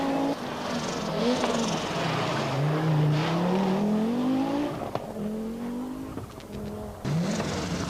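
A turbocharged five-cylinder Audi Quattro rally car races on an Irish tarmac rally stage, its engine revving up and down through gear changes with rising and falling pitch, plus sharp bursts near the end.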